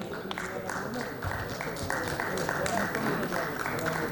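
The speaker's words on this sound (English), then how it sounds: "please welcome him with a round of applause" An auditorium audience claps to welcome a speaker onto the stage at an industry talk, a steady moderate patter of many hands, fairly even and continuous throughout.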